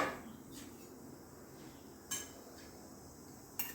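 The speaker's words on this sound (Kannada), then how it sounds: "ಈಗ ಉರಿ ದೊಡ್ಡದು ಮಾಡಿಕೊಂಡು ಮುಚ್ಚಲು ತೆಗಿತಾ ಇದ್ದೇನೆ." A lid is lifted off a pan of cooking jackfruit chips on a raised flame, giving a few faint, sparse metallic clinks against a quiet kitchen background.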